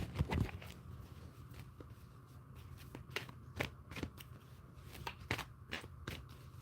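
Tarot cards are shuffled repeatedly, a series of soft riffling snaps and flutters close by, in uneven bursts with quiet gaps.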